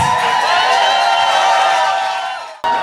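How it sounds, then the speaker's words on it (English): Crowd at an outdoor rally marking an anniversary, cheering and clapping in a dense, steady roar that fades near the end before a brief burst returns. "Give yourselves a round of applause."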